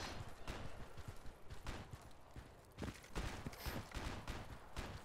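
Gunshots ring out in the Project Reality military video game, a steady series of sharp cracks and bursts at moderate distance over a busy battlefield background, with no talking.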